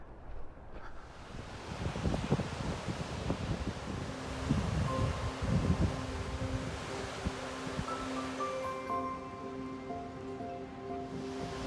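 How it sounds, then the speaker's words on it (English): Water from the Black River rushes steadily near a picnic area in a small coastal town, a broad continuous roar mixed with wind buffeting the microphone. "Can hear the water back there."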